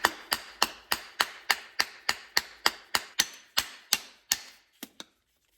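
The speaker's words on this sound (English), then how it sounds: "More hammering." Sharp metal hammer blows from a Matco hammer striking a carburetor on a 1962 Dodge Lancer, about fifteen evenly spaced ringing knocks, loud and close, ending with two quicker lighter taps.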